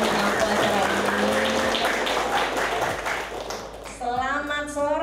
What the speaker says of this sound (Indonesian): Tepuk tangan dulu dong untuk kakak-kakak yang sudah mengampu acara ini